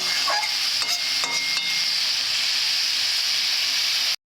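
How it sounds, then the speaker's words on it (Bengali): Cabbage simmers and steams in a pan, giving a loud, steady hiss and sizzle with a few light stirring clinks early on. It cuts off abruptly at the end, with no voices. "এভাবে কিছুক্ষণের জন্য আমি সেদ্ধ করে নেব"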